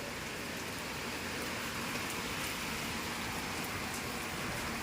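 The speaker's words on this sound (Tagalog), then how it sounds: "Oh my god, we have a typhoon in here. Always raining." Heavy typhoon rain pours down in a rural province, a dense, unbroken hiss of falling water that stays loud and steady throughout with no voices.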